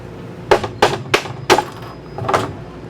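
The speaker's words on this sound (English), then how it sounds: "If we give it a tap with a hammer." Five sharp hammer taps strike a laser-cut plywood circle in quick succession, close and crisp, each a short woody knock, the last slightly softer and more drawn out.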